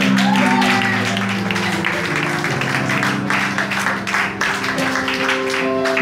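A church congregation applauds to acclaim the Lord at a pastor's anniversary service, steady sustained clapping mixed with music and crowd sound throughout.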